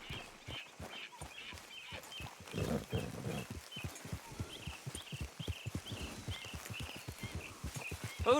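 Horse hooves gallop in Red Dead Redemption 2, a steady rapid clip-clop of several riders' mounts, fairly close, with faint ambient outdoor sounds and no talking.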